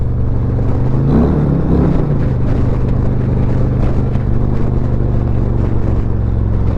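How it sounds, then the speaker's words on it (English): Loud, steady Harley-Davidson exhaust through an aftermarket D&D Fat Cat system drones under load with a deep throbbing rumble, the engine note rising slightly as the bike climbs a hill. "this D&D Fat Cat sound wonderful on the hill"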